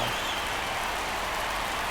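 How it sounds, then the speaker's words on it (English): Steady rain hisses over a baseball stadium in MLB The Show 24, an even, unbroken wash of falling drops at a moderate, distant level with no other sounds standing out. "This rain is not letting up."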